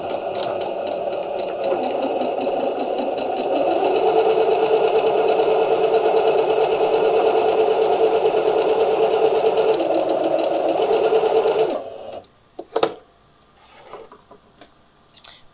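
A sewing machine stitches a quilt strip forwards and backwards in one steady, even run that lasts about twelve seconds, then stops, followed by a few faint handling clicks.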